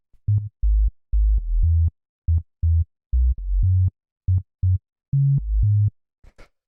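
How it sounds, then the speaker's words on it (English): Synth bass line in a house track, playing short, punchy low notes in a simple rhythmic pattern that follows the chord progression, loud and alone. "After that, we have the bass"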